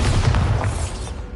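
The Bombarda blasting spell goes off in a Harry Potter video game: a single loud, booming explosion with deep rumble that fades gradually over about a second.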